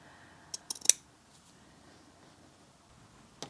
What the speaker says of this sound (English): go ahead and just cut away the excess around that flower